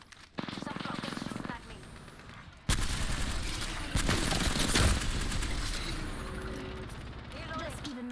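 Gunfire in the Apex Legends battle royale shooter, loud, dense bursts of shots that start abruptly and keep going under heavy game effects, with a voice talking over parts of it.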